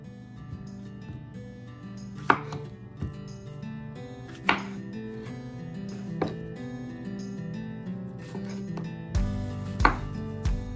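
A knife slices cucumbers on a cutting board for pickles and relish, giving sparse, irregular chopping knocks over a steady background hum, with tonal music-like bands running underneath throughout.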